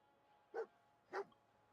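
A puppy in a settlement-building video game gives two short, sharp barks about half a second apart, quiet and isolated against near silence.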